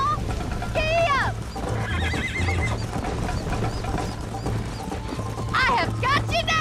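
Horse in the video game Red Dead Redemption neighing loudly several times over galloping hoofbeats and clanking tack, with a voice speaking over the action.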